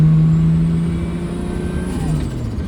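A Nissan S13 with a swapped Toyota 2JZ engine and T51R turbo drives close by, a loud, steady engine drone with turbo whistle and a slight pitch dip near the end.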